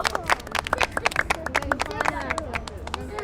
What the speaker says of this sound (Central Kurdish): یەک چەپڵی قایم بۆ هەر هەمووتان